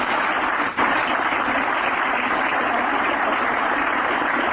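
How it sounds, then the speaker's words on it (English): Sustained audience clapping for panelists at an eHealth demonstration event rolls on evenly for several seconds, a broad hiss of many hands with one brief dip near the start. "I think our panelists deserve a round of applause"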